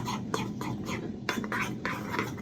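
Tartar sauce ingredients stirred together in a bowl with a utensil, giving soft repeated scraping and clinking strokes at close range, fairly quiet, with no talking.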